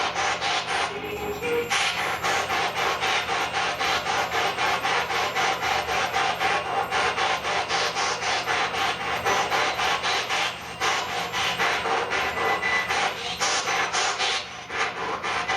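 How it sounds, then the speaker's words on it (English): Steady scraping, rubbing noise of a ring light being touched continues without a break, close to the microphone. "Is that you touching that light there? Making that noise?"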